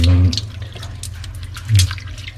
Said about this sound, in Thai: ล้างก่อนเพื่อความสะอาดนะครับ ต้องล้างเพราะว่ามันอาจจะมีฝุ่นมีอะไรเกาะอยู่นะครับ